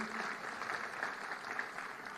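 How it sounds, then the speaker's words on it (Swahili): A stadium crowd at a Jamhuri Day celebration at Nyayo Stadium claps in a steady, moderately loud wash of applause that fills the whole moment without pause. "Tumpigie makofi."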